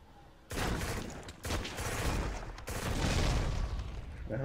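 Sniper gunfire in the PS2 shooter Black during a city level, a dense barrage of loud shots and booms starting abruptly and continuing steadily with brief gaps, no talk.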